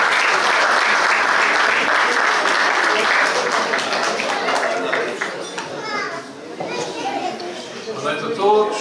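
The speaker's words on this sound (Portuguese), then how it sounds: "Uma grande salva de palmas para o seu vereador também." Audience applause at a marching band's dinner, a dense, loud clapping crowd with children's voices mixed in, fading after about five seconds as a voice begins talking.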